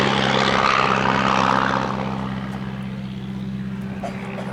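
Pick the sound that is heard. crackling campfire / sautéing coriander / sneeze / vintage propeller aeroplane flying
vintage propeller aeroplane flying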